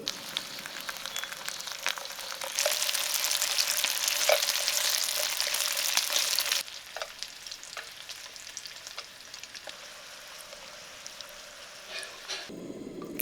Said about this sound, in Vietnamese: Rồi mình đem đi áp chảo vàng xém hai mặt